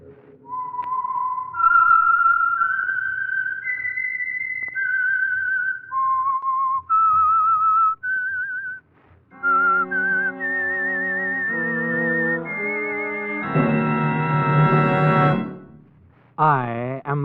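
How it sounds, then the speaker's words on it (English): Theme whistle of The Whistler, the Signal Oil Program radio mystery show: a lone melodic whistled tune rising and falling over about nine seconds, followed by a louder orchestral phrase with a brief voice near the end. "That whistle is your signal for the Signal Oil Program"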